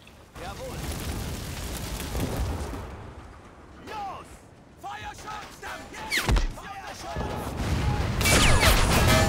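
Battle gunfire in the Men of War strategy video game: rapid volleys, heavy thuds and blasts coming in loud bursts through most of the stretch, with a sharp explosive crack near the middle and dense firing building toward the end.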